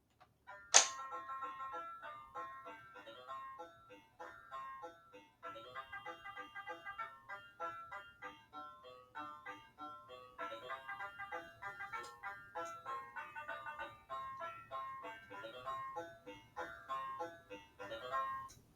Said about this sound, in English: Now let's compare it to the Leap Start Learning Table version.